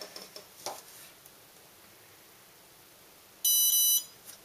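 Scorpion electronic speed controller for an RC model beeping as the battery is plugged in, a short loud electronic tone burst after a few small clicks in a quiet room.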